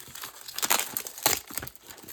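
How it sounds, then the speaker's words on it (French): Plastic wrap being torn and crinkled off a Yu-Gi-Oh card display box, a 2023 Legend of Blue Eyes reprint, with close, irregular bursts of crackling and rustling and no talk. "on décèle et on déballe"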